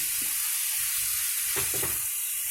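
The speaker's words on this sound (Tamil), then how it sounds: "இதை நல்லா கிளறி விட்டுக்கோங்க." Prawns and onions sizzle steadily in a pan with a constant hiss, broken by a couple of brief scraping stirs near the middle and end.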